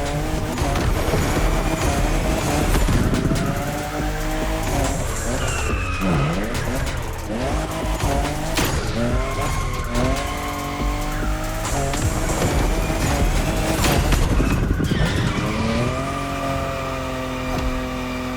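A Toyota Supra races in The Crew Motorfest with a loud engine that rises and falls through repeated gear changes. Tire squeal and skidding break in several times over steady road noise.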